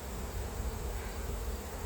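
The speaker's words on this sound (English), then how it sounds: "I'm going to get some of these bees out of my way." Honey bees buzz steadily during a hive inspection, a dense, continuous close-up drone with no pauses.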